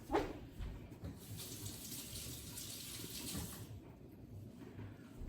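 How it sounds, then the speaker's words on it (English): Water runs steadily from a kitchen tap as hands are washed beneath it, a continuous splashing stream at moderate distance with a brief louder gush at the start, then tapering as the flow eases near the end. "let me wash my hands."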